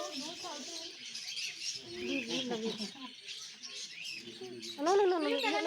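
Birds at a bird sanctuary chirp and tweet in a busy, varied chatter, close by and mixed with people's voices.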